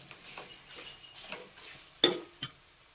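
Kerala-style fish pickle masala being stirred in a pan, a soft sizzle under scattered spoon scrapes, with one sharp metallic clink of utensil against pan near the end, with no talk.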